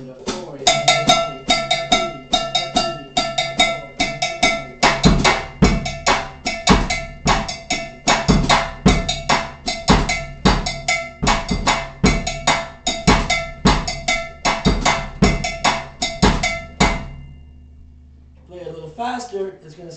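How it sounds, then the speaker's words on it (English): Cumbia groove on a drum kit, cross stick on the snare with a steady clacking pattern, driving bass drum and bright metallic accents, played close and loud for about seventeen seconds before stopping, with a voice speaking briefly at the end. "Today I'm going to play it like this on the cross stick on the snare."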